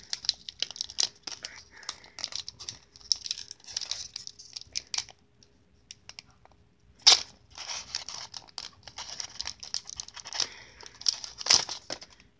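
Foil wrapper of a Pokémon Shining Legends booster pack crinkling and tearing open in bursts of close, crisp rustles, with a couple of sharper rips and short quiet pauses between.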